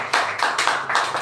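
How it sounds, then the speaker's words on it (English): Audience clapping at a school speech event, with a few hands striking in loose bursts that come close and fairly loud in a small room. "So please clap for her."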